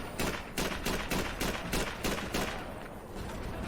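Gunfire in the video game Call of Duty 3: a steady run of about ten loud, evenly spaced shots that cracks sharply and then trails off into a fading echo.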